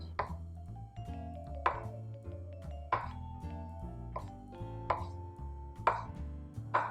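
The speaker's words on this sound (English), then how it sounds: "Just going to cut them into small cubes first" A knife cuts pan-fried tofu into small cubes. About six distinct, evenly spaced knocks on a board stand out clearly against a quiet background.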